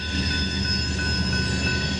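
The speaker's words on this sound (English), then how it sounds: "Today, one of their trains is heading eastbound through town and turns south onto the Sandusky line." Wheeling and Lake Erie freight train heading eastbound through Bellevue, Ohio, a loud, steady rumble of rolling railcars close by, with a sustained metallic ring over the low roar and no pauses.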